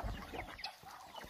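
Chickens cluck at a rural smallholding that also keeps turkeys and ducks, with several short, faint calls scattered over quiet outdoor background.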